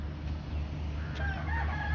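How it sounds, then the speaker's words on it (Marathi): A tame peacock near a temple gives a single loud, harsh call that rises over a steady outdoor background hum, heard at moderate distance. "मोर."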